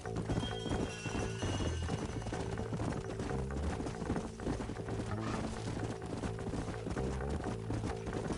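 Horse hooves clip-clop steadily in the Red Dead Redemption video game, a continuous rhythmic trotting under a dense, loud mix of game sound with occasional faint whinnies.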